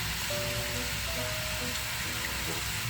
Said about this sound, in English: Stir fry until you got the texture that you like